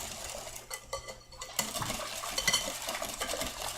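A spoon stirs flour into a rhubarb and apple cobbler mixture in a bowl, giving soft scraping and clinking strokes in an irregular rhythm, close and fairly quiet.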